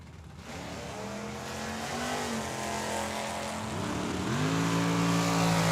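A Duster and a dragster launch side by side at Tucson Dragway. Engines roar and rev upward in rising pitch sweeps and build to a loud sustained scream, with no talk.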